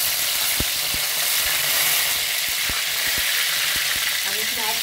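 Curry leaves, cumin and split green chillies sizzle in hot oil, making a loud, continuous hiss of frying with occasional sharp pops and light spoon clicks close by, and no one speaking.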